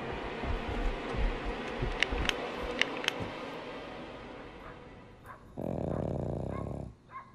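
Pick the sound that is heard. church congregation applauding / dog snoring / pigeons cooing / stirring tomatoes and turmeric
dog snoring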